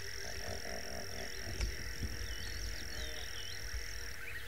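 A chorus of frogs croaks and trills continuously in the distance on a morning safari, layered with scattered bird chirps over a steady outdoor background, without speech.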